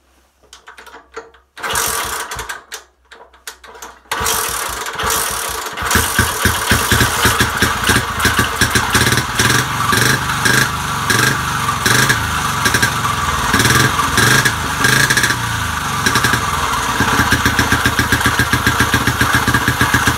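A 1954 Motobecane Z46C motorcycle, fed by a small fuel bottle piped straight to the carburetor, cranks in short bursts, fires up and settles into a loud, close, rapid popping idle with a rattle.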